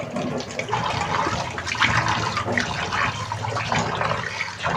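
Water runs steadily from a tap while fish is washed, a continuous splashing rush close by with no talk.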